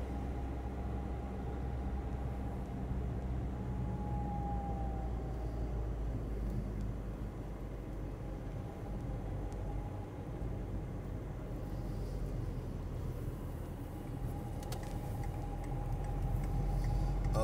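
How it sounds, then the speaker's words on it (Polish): Car gearbox or CV joint whining while driving in traffic, a thin steady whine held over continuous road rumble and engine drone, fairly quiet and unbroken with no talk. "słychać, albo przegub któryś wyje, ale prędzej skrzynię"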